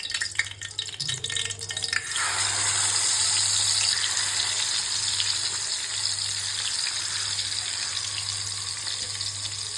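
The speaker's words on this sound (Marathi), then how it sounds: "आता तेल सुद्धा गरम झाले. त्यामध्ये मच्छी टाकून घेऊया." Marinated fish goes into hot oil in a pan and sets off a loud, steady sizzle that continues without a break. A low hum runs underneath, and there are a few clatters just before the frying starts.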